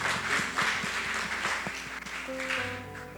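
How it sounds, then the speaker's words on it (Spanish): A church congregation applauds during a service, with a soft wash of clapping and a few sharper individual claps, set over a sustained musical tone that enters partway through. "Dale un fuerte aplauso al Señor,"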